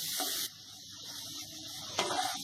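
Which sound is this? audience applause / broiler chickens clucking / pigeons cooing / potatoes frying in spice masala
potatoes frying in spice masala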